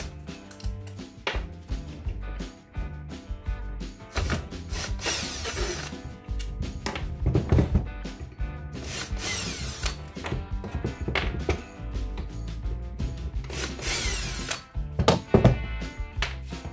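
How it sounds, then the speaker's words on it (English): Screws holding the gearbox on an angle grinder are being removed, with continuous close clicking of a ratcheting driver and several louder whirring bursts of a power tool, no talking. "Now there's four screws to take the gearbox out of there."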